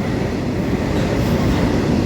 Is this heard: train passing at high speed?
yes